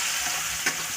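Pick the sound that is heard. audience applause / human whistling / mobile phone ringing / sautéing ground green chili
sautéing ground green chili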